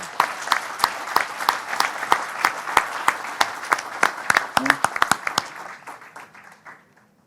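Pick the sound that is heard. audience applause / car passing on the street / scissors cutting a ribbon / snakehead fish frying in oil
audience applause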